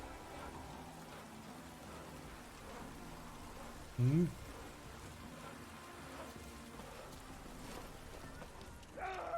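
Steady rain patters in The Witcher 3: Wild Hunt, a constant wash of falling drops throughout, with a brief murmured voice partway through and a small rise in noise at the end.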